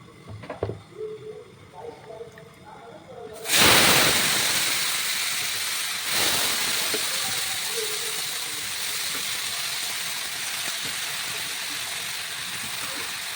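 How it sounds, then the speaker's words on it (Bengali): Eggplant and potato pieces dropped into hot oil burst into a loud, broad sizzling hiss that steadies into continuous frying, with faint talk in the background. "এই তেলের মধ্যে আমি এই বেগুন আর আলুটাকে দিয়ে দেবো"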